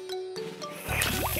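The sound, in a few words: hand water pump spilling water, cartoon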